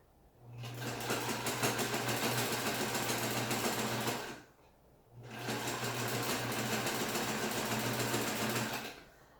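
A sewing machine stitches fabric in two steady bursts, each a loud, even mechanical whir with a low hum, separated by a brief pause.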